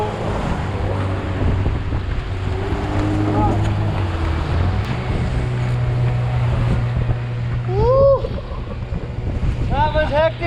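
Rough sea water crashes and churns around a fishing boat off Bali, with a steady engine drone, buffeting wind and occasional voices and shouts cutting through.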